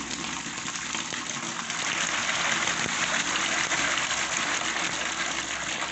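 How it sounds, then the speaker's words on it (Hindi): Water gushes steadily into a tub holding more than half a kilo of salt, a dense, continuous rushing pour close by that gets slightly louder after the first two seconds, with no voices. "अब इसको पानी डालते डालेंगे"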